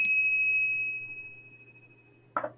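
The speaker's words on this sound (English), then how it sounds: "that's Pavlov's bell." A single clear bell ding rings out at the start and its bright tone hangs and slowly fades across the quiet, followed near the end by a short soft knock or thud.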